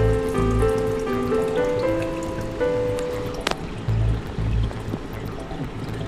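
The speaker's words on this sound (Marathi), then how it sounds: "तर मित्रांनो, इथे आपण पाणी भरत आहे टँकमध्ये. तर तुम्ही बघू शकता फुल स्पीडमध्ये येत आहे पाणी" Water pours at full speed into an aquarium fish tank for parrot fish, a steady splashing, trickling rush with dripping, under faint tonal background sounds.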